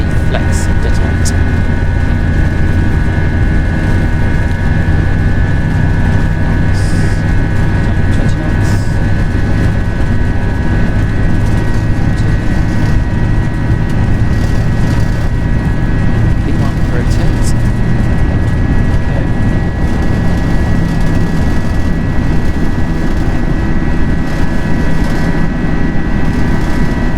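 Airbus A320 jet engines spool up in a flight simulator, a loud, steady roar with a constant whine running unbroken throughout.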